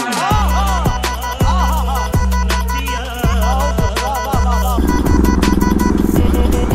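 A Bajaj Pulsar NS200 motorcycle rides through jungle, its engine loud and close with a throbbing, pulsing drone broken by repeated gear or throttle changes, the note dropping and roughening near the end.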